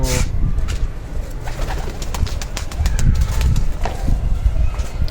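Pigeons coo softly close by, with scattered wing flutters and rustling over a low background rumble.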